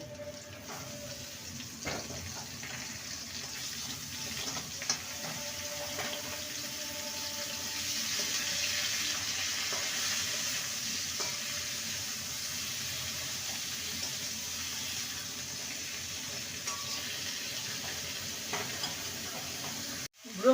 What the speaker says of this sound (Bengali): এবারে ব্রকলিগুলোকে আলুর সাথে দু মিনিট ভেজে নেব